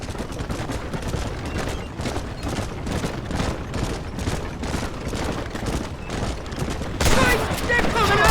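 A shootout in Red Dead Redemption rattles on in dense, continuous volleys of gunfire, rapid overlapping shots with a louder burst near the end, voices mixed in beneath.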